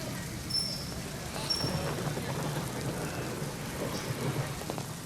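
Heavy monsoon rain in Pune, India pours down in a steady, dense hiss with a low rumbling undertone, continuous and close throughout.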